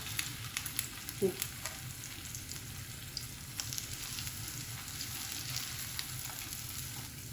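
Semolina pieces fry in hot oil, a steady low sizzle and crackle throughout with a few faint clinks of handling.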